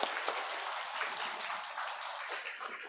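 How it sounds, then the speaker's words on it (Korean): Applause from a church congregation at a Sunday worship service, a steady wash of many hands clapping close by, fairly quiet and unbroken for the whole stretch with no talk over it. "우리 감사의 박수."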